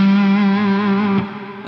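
A sustained, distorted electric guitar note through an Earthquaker Devices Astral Destiny reverb pedal, mix around 50%, rings out with a washy reverb tail, fading slightly near the end.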